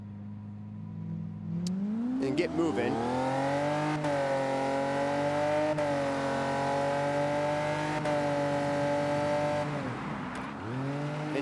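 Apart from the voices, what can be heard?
racing car engine revving in a racing video game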